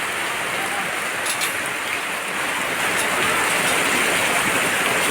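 Heavy rain pours in Naic, Cavite, a dense, loud, unbroken roar of drops hammering nearby surfaces throughout.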